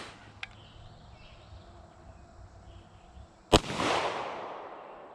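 A Ruger 57 pistol fired at a target outdoors: a faint early crack, then one sharp loud shot followed by a lingering rumble of echo.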